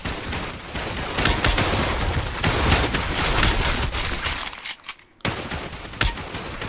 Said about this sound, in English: I'm shooting him without any issues.